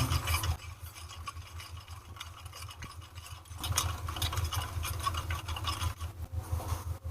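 Chicken and potato mixture being stirred and mashed with black pepper and black salt, giving a steady close scraping and rubbing with a brief pause midway, no talking.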